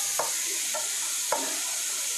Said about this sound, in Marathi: गाजर चांगले तुपामध्ये परतून घ्यायचे